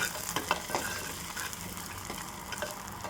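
Crushed garlic and curry leaves frying in hot coconut oil, a steady close sizzle and crackle with a few sharper spits and stirring scrapes throughout, no voices.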